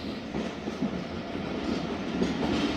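Karachi Express passenger train with 14 coaches rolling into a station, a steady close rumble of wheels and carriages with faint clatter, no voices.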